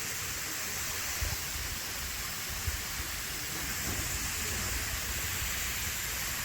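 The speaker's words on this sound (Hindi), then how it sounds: "झरना मैं आप लोगों को दिखा रहा हूँ" Steady broadband rush of a waterfall at the Ellora caves, a constant hiss-like roar with no breaks, moderately distant and alone without talk.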